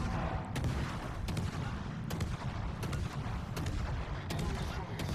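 The Dalarna destroyer's guns in World of Warships fire a rhythmic volley of sharp, evenly spaced shots about every second over a low, steady background rumble, heard at a fairly subdued level.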